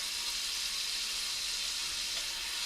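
Continuous crackling sizzle of a slab of fat frying in a hot pan, a steady close hiss with no pauses and no talk.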